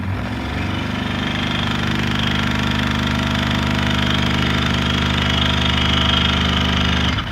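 A scroll saw cutting wood for name plates, a loud, steady mechanical buzz with rapid reciprocating vibration and motor drone, continuous and close from start to finish, no voices.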